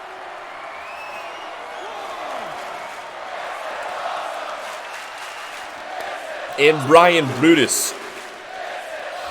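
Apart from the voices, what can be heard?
wrestling crowd cheering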